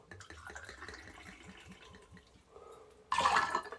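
Sweet vermouth poured from a bottle into a cocktail glass: after soft handling sounds, a short, close liquid splash and trickle runs for about half a second, no talking.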